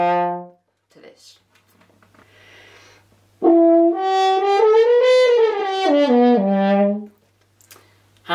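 French horn holding a sustained, wavering tone after a brief opening note, played with hand stopping for a buzzy, nasal timbre, loud and alone apart from faint breathy sounds in the quieter gaps.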